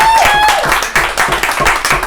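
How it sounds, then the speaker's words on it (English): Applause and scattered clapping from a bar audience at a live music night, loud and close, mixed with crowd noise and voices for about two seconds. "Give a round of applause for Jason."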